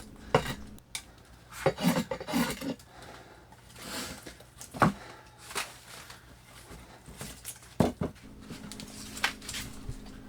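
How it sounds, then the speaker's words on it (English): A bevel-down draw knife shaving wood on an axe handle, working into the concave back of the handle: a series of short, rasping scrapes in irregular bursts, close and moderately loud, with no talking. "how a beveled down draw knife works really well getting into concave areas like the back of the handle right there"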